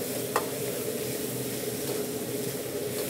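Asian noodles stir-fry in hot oil with a steady, even sizzle and a soft, continuous hiss throughout. One sharp clack of a utensil sounds early, close and fairly quiet, and there is no talk.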